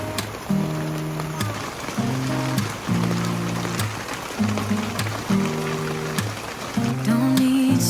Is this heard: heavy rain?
yes